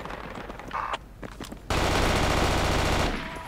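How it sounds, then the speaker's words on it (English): Machine gun fire in the military shooter game Project Reality crackles in short bursts, then swells into a sustained, loud rattling volley that fades slightly at the end. "It's a machine gun."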